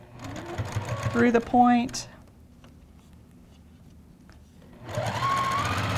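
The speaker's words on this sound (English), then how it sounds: "So I'm going to slow down here, sew right to that point" Sewing machine stitching a spinning star quilt block, a brief close run that slows toward a point, heard under a woman's speech with a pause of quiet before talk resumes.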